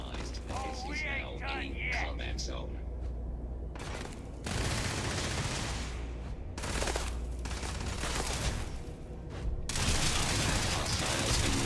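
Robots in Starfield fire bursts of rapid gunfire in a science-fiction game firefight, loud volleys repeating across the stretch after a brief opening of talk.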